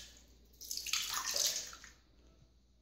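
Whitish cleaning water poured into a toilet bowl during bathroom cleaning, a brief splashing gush that swells and fades over about a second, fairly close and alone.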